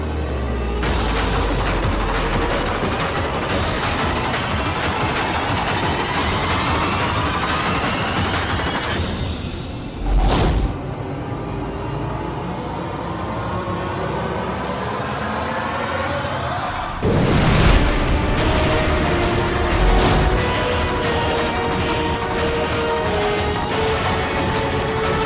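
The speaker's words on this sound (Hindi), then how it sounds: "पूजा चला गोली।" Dense bursts of gunfire in a dramatic TV scene, rapid overlapping shots forming a sustained loud barrage with a couple of sharper booming cracks standing out.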